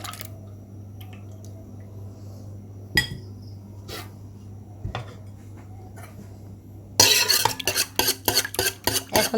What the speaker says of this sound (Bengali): ঠান্ডা দুধের সাথে এখন আমি ডিমটা মিক্সড করব